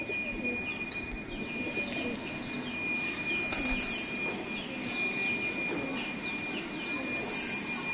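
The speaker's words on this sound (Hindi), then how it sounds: "ये आ गया जी दोस्तों जौंसला कबूतर" Jones pigeons, a prized breed kept by a fancier, coo and chirp with brief bursts of wing flapping through a steady, dense background hum; no talking.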